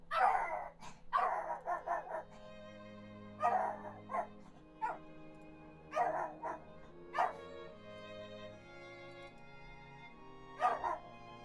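A dog barks repeatedly in short bursts and pairs, fairly close and clear, over a steady background of soft tonal music.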